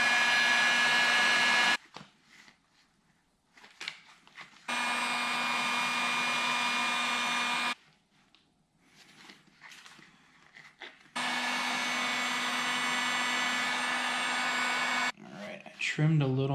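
A heat gun warms a Kydex frame guard for a 2019 YT Jeffsy AL Base mountain bike, its loud blowing whine running in three long bursts separated by quiet pauses with faint handling noises.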